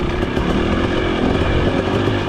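A 2023 KTM 300XC two-stroke dirt bike on a Peach Valley trail accelerates hard in first gear, its engine a loud, close, continuous buzzing roar that holds steady throughout with no talk.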